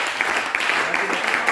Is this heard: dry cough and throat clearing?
no